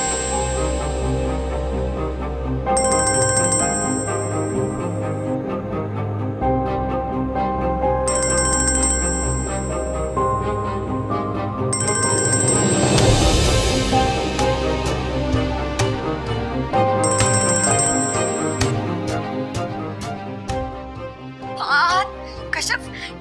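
A melodic phone ringtone rings repeatedly in a steady looping pattern, loud and close, with a brief swelling noise midway and a few sharp sounds at the end.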